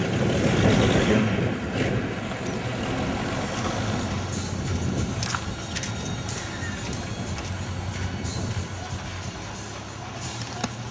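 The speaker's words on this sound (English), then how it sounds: "Samoan bus there. Dropping off passengers in it." A Samoan bus engine rumbles at Mulifanua Wharf on Upolu while dropping off passengers, a steady low idle with scattered clanks and bustle of the busy wharf around it, continuous through the whole stretch.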